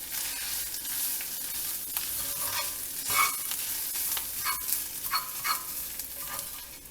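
Grated coconut frying briefly in a pan for turmeric chutney, a continuous crackling sizzle broken by scattered stirring scrapes, moderately loud and close with no talking.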